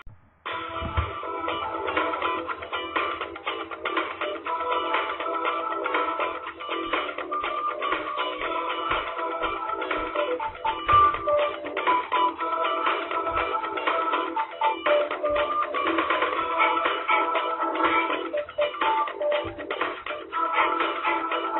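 Sonic CD's American-version music, a dense, steady electronic video game track with a thin, band-limited sound, playing continuously at moderate level with no talking.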